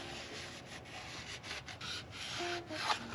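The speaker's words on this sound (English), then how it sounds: "So I'm gonna take a sec to wipe down all the mating surfaces before I put this one back in." Cloth rubbing and wiping across the valve cover mating surfaces on a Lexus SC300, a soft, close, continuous scrubbing with brief pauses and a few faint clinks.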